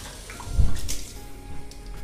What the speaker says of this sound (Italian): Diamogli una sciacquata.